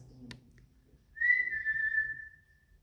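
A single clear whistle rings out in a dark hidden tunnel, one sustained steady tone lasting about a second after a brief knock, close and alone with no speech.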